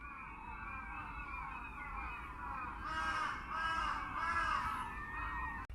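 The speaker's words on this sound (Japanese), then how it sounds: "後方ではカラスが大合唱" A large flock of crows caws together in a dense, continuous chorus in foggy coastal Nemuro, with harsh overlapping calls rising and falling against a steady wind-like background.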